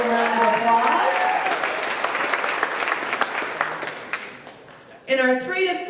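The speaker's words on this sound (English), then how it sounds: "Let's give these guys a round of applause" Warm applause from a company gathering honoring truck line employees for their years of service, steady clapping that fades after a few seconds before a voice resumes speaking.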